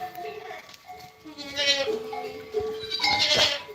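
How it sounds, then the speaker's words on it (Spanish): Young Cardena goats bleat in wavering cries at close range, several overlapping calls from a farm herd, with people talking among them. "La cabra cardena."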